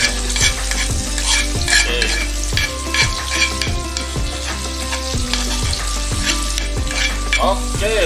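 Sambal terong with salted fish stirred in a frying pan: loud continuous sizzling with rhythmic scraping strokes of a spatula against the pan, repeating about every half second, with a brief spoken word.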